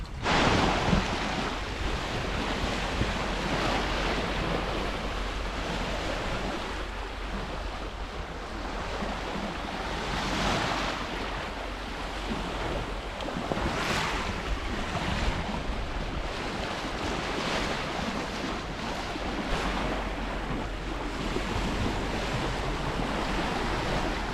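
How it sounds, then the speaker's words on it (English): Steady wind and rushing waves stream past a sailing yacht in about 14 knots of breeze on a passage from Millport to Campbeltown, a continuous loud wash with gusty surges and no voices. "And finally, we have 14 knots of wind, so I'm happy."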